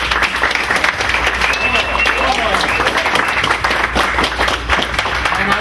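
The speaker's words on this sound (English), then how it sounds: "They're going to clap for you." Applause from an audience at a knowledge-management community meeting, honouring certified knowledge managers: dense, steady clapping that holds for several seconds with crowd murmur and a few voices mixed in.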